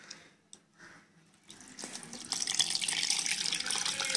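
Tamarind water poured into freshly ground masala for rasam: quiet clinks at first, then a steady, close liquid pour building over the last couple of seconds.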